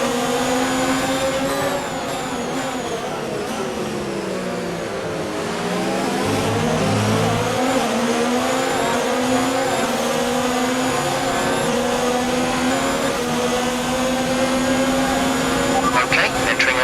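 A Formula 1 car engine in the F1 2019 video game at the Bahrain Grand Prix, a loud continuous high-pitched whine rising and falling through gear changes, with speech occurring alongside the engine noise.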